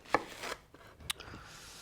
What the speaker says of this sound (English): And finely slice the red pepper